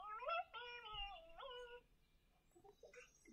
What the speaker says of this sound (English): is that your cat? Oh, meow, meow, meow.